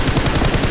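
Automatic gunfire in PUBG as rapid, loud, evenly spaced shots in a brief dense burst, with no voices.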